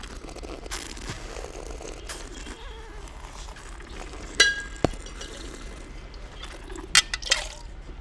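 Glasses touch in a toast at a wine tasting, giving a couple of brief, bright clinks over low room murmur and small handling sounds.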